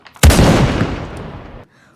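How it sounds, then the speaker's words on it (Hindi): A single loud gunshot cracks out sharply, then echoes and rumbles away over about a second and a half before fading to near silence. "पीछे से गोली चलने की आवाज़ आई।"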